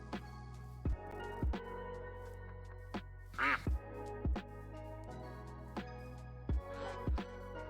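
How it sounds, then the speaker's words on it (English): Ducks quacking repeatedly in Minecraft, in an old growth spruce taiga landscape; clear, separate quack calls recur every second or so over a steady low background hum, with no talk. "running through the landscape, I just hear a large amount of quacking"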